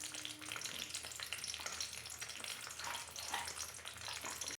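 Fish curry spices, with chopped tomato, ginger and garlic, fry in hot oil in a pan, a steady close crackling sizzle with faint stirring, continuous and without talk.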